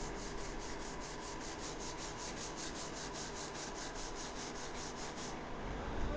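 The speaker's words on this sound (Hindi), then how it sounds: "ये दोनों हाथों को रब करती हैं" Two hands rub briskly together in steady repeated strokes, a close, soft, dry swishing rhythm with no talking.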